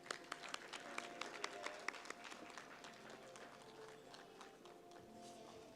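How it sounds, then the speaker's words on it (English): Applause at an insurance conference in Pakistan during a memento presentation: a faint, distant patter of scattered hand claps that thins out toward the end, with no talk over it. "A round of applause, ladies and gentlemen."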